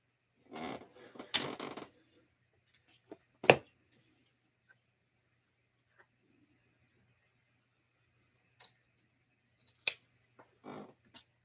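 Scissors trim fabric while a bucket bag is being sewn, a few short, close snips and crisp cuts separated by long silent gaps, with a faint voice now and then.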